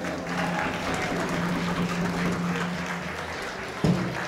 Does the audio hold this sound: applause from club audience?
yes